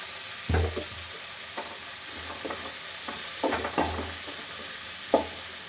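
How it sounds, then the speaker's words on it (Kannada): Ingredients for uppittu fry in a pan under a constant soft sizzle, broken by several clattering stirs and scrapes of a utensil, with no one speaking. "ಫ್ರೈ ಮಾಡ್ಕೊಳ್ಳಿ"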